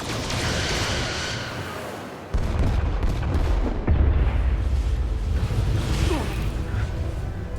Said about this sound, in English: Firing torpedoes.